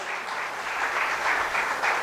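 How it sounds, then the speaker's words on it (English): At a seminar in Goa, an audience gives a big round of applause, a brief, even wash of clapping at moderate loudness without speech. "I think we should give a big round of applause to his wife."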